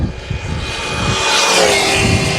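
A large, powerful RC car accelerates hard at full throttle on a road, its high-pitched motor whine rising steadily and staying loud and close throughout, with a rough broadband roar underneath.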